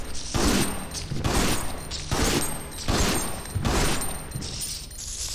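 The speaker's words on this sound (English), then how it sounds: "I better prepare the shotgun." Shotgun blasts from Resident Evil Outbreak File 2, five loud booming shots at a steady spaced rhythm, each followed by a short rattling decay, with no talking.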